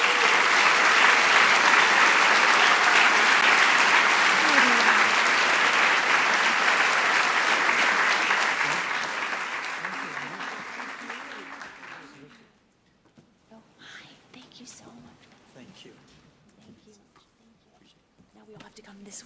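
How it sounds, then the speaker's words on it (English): Audience applause fills a hall at a class presentation, loud and dense clapping that holds steady for several seconds, then fades out, leaving quiet murmuring and scattered room noise. "I hope that you will give each of them and all of them a very big and enthusiastic round of applause."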